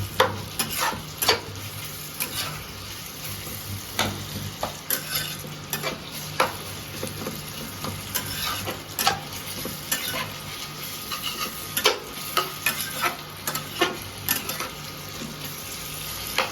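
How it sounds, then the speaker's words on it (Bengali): Onions frying in hot oil in a pan for chicken curry, a constant close sizzle dotted with frequent spatula scrapes and clinks, no voices. "পেঁয়াজগুলো গরম তেলের উপরে দিয়ে ভালো করে ফ্রাই করে নেওয়া হবে।"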